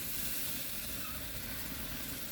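A massive cowboy steak searing over hot coals on direct heat, giving a steady, close, even hiss and sizzle that runs unbroken throughout with no talking.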